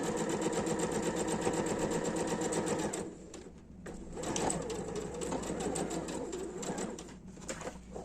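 A sewing machine stitching a straight seam on a toiletry bag runs in a fast, even whir, pauses briefly, then resumes its rapid stitching close by.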